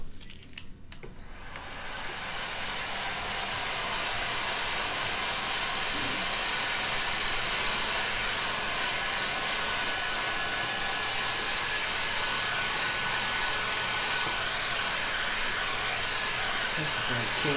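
A hair dryer blows steady hot air over artwork in an art studio, a loud continuous whooshing hiss that starts after a brief click and runs unbroken.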